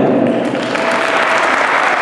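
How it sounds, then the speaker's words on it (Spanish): Audience applause at a school Christmas concert, a loud, full burst of clapping from a crowd that carries steadily through the whole two seconds without voices. "dándoles un fuerte aplauso a los alumnos de rondalla,"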